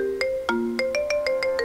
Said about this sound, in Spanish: voy a descargar este modo 24K Gold Ringtone